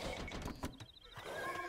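A horse neighs in the video game Age of Empires, with hoof clip-clops and clicking game effects in a short, quiet burst.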